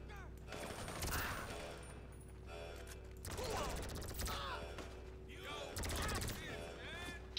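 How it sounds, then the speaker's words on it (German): Bursts of automatic gunfire from the video game GTA V, fired during a hacking sequence in a Doomsday Heist preparation mission, come in three loud volleys over a steady background hum. "Auch gerade beschossen beim Hacken"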